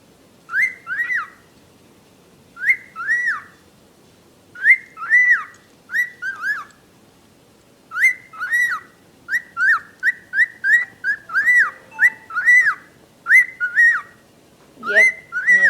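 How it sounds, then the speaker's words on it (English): A pet bird whistles in repeated short bursts, bright, close and rhythmic, with brief pauses between the phrases and quicker chirps toward the end, with no speech. "He is a crazy bird."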